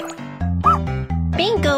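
A cartoonish dog gives a few short, yappy barks over a bright musical backing, with a chirpy voice-like yip near the end.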